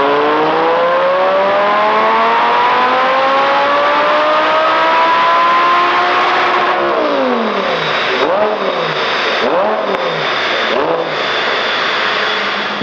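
Supercharged Lamborghini Gallardo engine revving loudly up close: a sustained rising howl with a supercharger whine, then several sharp throttle blips that fall away.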